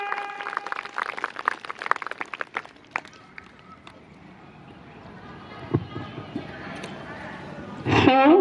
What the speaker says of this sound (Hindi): एक बार जोरदार तालियों से इनका अभिनंदन